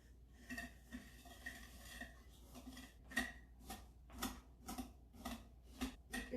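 A utensil beating gluten-free cookie batter of oil, granulated sugar and brown sugar in a bowl, with irregular scraping clinks at first, then settling into a steady rhythm of sharp taps against the bowl.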